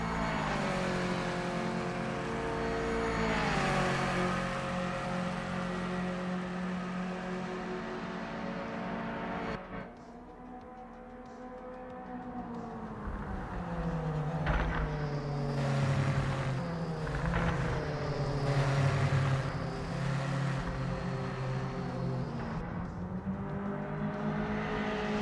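A Corvette C3's engine in a racing video game drones loudly with pitch rising and falling through gear changes, dipping briefly before revving up again under a continuous, close engine roar.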